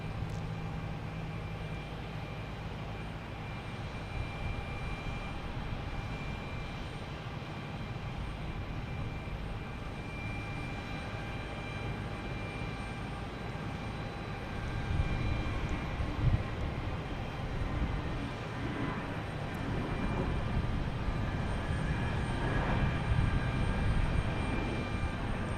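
A Frontier Airlines jet taking off at Boston Logan sends a distant, steady engine rumble with faint whine that swells louder in the second half, heard alone without talk.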